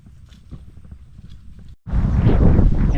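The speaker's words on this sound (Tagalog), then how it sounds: "lakas na ng amihan" Strong northeast monsoon wind near a breakwater buffets the microphone in a loud, roaring rush that starts abruptly after a quieter stretch of low rumbling and faint knocks.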